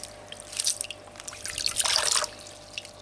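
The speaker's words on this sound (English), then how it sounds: "So I'll just give it a good squish around in the water." Aquarium canister filter sponge being squished and swished around in a container of water, giving soft wet sloshing and dripping bursts that swell and fade, loudest near the end.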